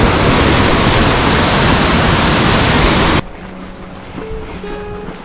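Milky glacier-fed river carrying white mineral silt, rushing as a loud, steady broadband roar that cuts off abruptly partway through, leaving quieter background with faint tones.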